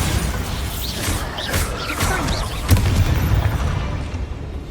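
Bombarda spell explosions in Hogwarts Legacy, a run of booming blasts and crashing debris with one sharper burst midway, amid a busy combat din.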